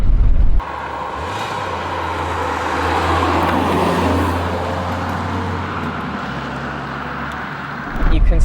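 An NA Mazda MX-5 Miata, a light car with some parts missing, drives and gathers speed with a steady low engine hum and road noise. The sound swells gradually mid-clip under continuous talk from a person in the car.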